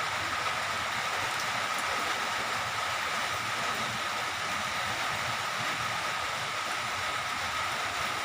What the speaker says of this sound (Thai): บรรยากาศฝนตกพายุเข้าครับผม